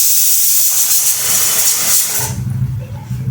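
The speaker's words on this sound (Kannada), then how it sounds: "ಮೂರು ಸಿಟಿ ಹೊಡಿಸ್ತೀನಿ ನೋಡ್ರಿ" A pressure cooker vents steam with a loud, forceful hiss that holds steady for about two seconds, then cuts off abruptly, leaving a low rumbling hum underneath.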